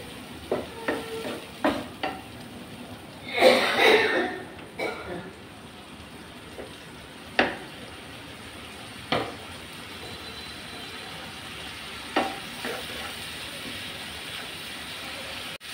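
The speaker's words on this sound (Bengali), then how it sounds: "এখন আমি এগুলোকে ভালো করে কষিয়ে নেব।" Onion with red chilli powder and turmeric sautéing in oil in a pan, a soft continuous sizzle broken by intermittent spatula scrapes and a brief louder stretch of stirring early on.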